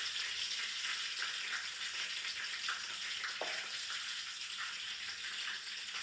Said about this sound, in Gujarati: બીજી ચમચી જીરું. ત્યારબાદ આપણે અડધી ચમચી ઘી એડ કરી દઈશું.